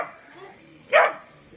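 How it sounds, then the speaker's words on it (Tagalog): A dog gives a single short bark, mid-distance and fairly clear over a quiet outdoor background. "Ito yung aso."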